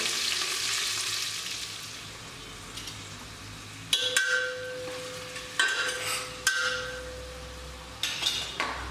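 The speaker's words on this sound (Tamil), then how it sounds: "இப்போ வெங்காயம் கருவேப்பிலை போட்டு வதக்கலாம் நல்லா செவந்து வர வரைக்கும் வதக்கி விட்டுங்க" Onions and curry leaves sautéing in a pan for chicken biryani: a steady close sizzle with periodic stirring scrapes and light clinks of a utensil against the pan, no voices.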